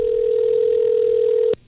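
Steady telephone dial tone on a line calling a mobile phone, a single loud continuous pitch for about one and a half seconds before it cuts off abruptly.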